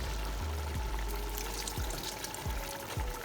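Liquid pours steadily into a cooking pot for Nigerian coconut rice, a continuous close splashing stream with small gurgles throughout.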